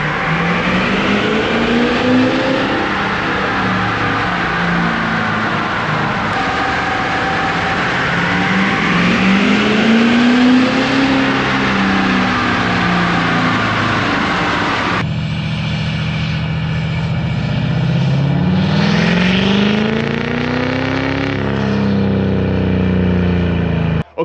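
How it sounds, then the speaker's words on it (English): An LML Duramax diesel pickup on a chassis dyno at stock tune, roaring loudly and steadily as the engine winds up through the gears in long sweeping pulls, with a brief shift break midway. "I'm gonna put the truck in tune 1, and we're gonna do a few runs in tune 1, which is like the stock power level."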